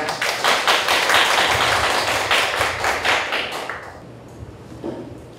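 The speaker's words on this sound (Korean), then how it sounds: "큰 박수 부탁드립니다." A burst of applause from a small academic conference audience, steady clapping for several seconds that fades out, followed by a few faint isolated claps.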